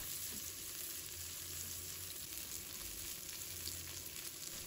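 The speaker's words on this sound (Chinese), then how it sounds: "油热之后把葱姜蒜 小米辣全部放入锅中，把它翻炒一下" Scallions, ginger, garlic and small chili peppers stir-fry in hot cooking oil for a clam dish, giving a steady, close crackling sizzle that runs without a break and with no talking.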